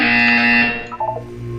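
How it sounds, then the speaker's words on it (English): Electronic buzzer from the Portal 2 video game, a loud sustained tone that holds steady and then fades out, with no talking over it. "You will hear a buzzer."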